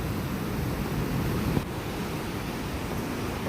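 A stream swollen and overflowing after heavy rain rushes with strong current, a loud steady broadband roar of water close by, with wind buffeting the microphone and a brief bump midway.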